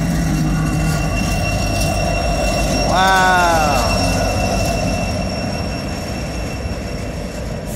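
A Norfolk Southern freight train rumbles steadily past nearby, and partway through its wheels let out a loud, wavering metallic squeal for about a second; a man briefly exclaims.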